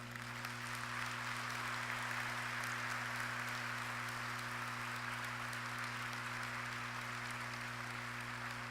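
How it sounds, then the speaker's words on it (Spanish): A congregation gives sustained, even applause in honour of the Virgin Mary during a Catholic talk, a dense wash of clapping over a low steady hum. "vamos a dar un fuerte aplauso a la Virgen María"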